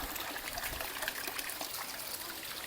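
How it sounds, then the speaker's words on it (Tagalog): Water pours steadily over Daranak Falls in Tanay, Rizal, fed straight from the mountain, making an even, unbroken rushing wash close by, with no voices. "Kita mo dito, tuloy-tuloy ang tubig."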